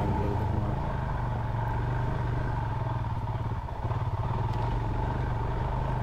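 An off-road motorcycle is ridden over rocks and roots. Its engine drones steadily and loudly for several seconds with a continuous rumbling note, while light clattering and thumps from the rough terrain come through beneath it.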